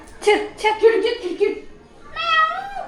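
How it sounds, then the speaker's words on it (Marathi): A cat at a window gives one drawn-out meow, close and clear, right after someone talks in a home. "मांजर ती बघ खिडकीत आहे"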